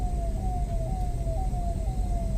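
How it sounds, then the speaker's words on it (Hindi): An ambulance siren wails on a Delhi street at night, a repeating falling tone cycling about every half second over steady traffic rumble. "क्या है ये? एम्बुलेंस है भाई।"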